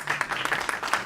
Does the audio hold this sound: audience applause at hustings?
yes